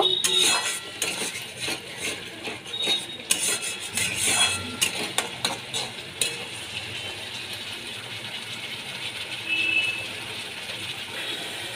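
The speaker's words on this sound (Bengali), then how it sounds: "ভালো করে মশলাটা আমি কিছুক্ষণ কষিয়ে নেব।" Salted spice paste being sautéed in a pan for a fish and potato curry, a spatula scraping and clinking against the metal in an uneven burst, then a softer steady sizzle.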